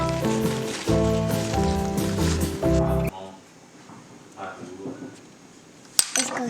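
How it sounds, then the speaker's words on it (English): Rain falling outdoors, a soft, steady hiss of patter that starts after a stretch of clinking, with a child and an adult talking close by. "Uh oh, it's raining. Come on, let's go."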